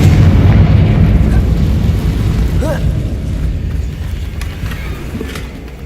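A Confringo fire spell bursts in Hogwarts Legacy, a loud explosive boom with a heavy rumbling tail that fades gradually over several seconds, a brief high whoosh rising midway.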